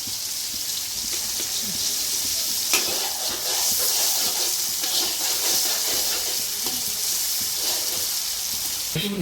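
Street-style fried rice sizzles hard in plenty of oil, with a steady loud frying hiss and repeated scraping stir strokes against the pan throughout.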